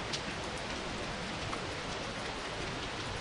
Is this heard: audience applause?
no